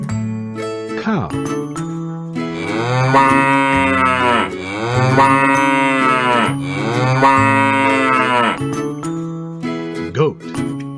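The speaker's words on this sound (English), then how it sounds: "Cow." A cow moos three times in long, drawn-out calls, loud and close, set against light cartoon music with jingling tones.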